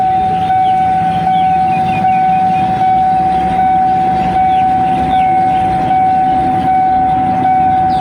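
Thai rapid train No. 171, running Bangkok to Sungai Kolok with fifteen cars, pulls slowly away as a loud, continuous engine drone with a steady high tone. No voices are heard.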